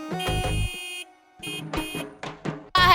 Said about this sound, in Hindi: क्या है इतना हॉर्न काहे मारते हो?